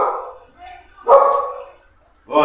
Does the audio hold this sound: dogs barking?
yes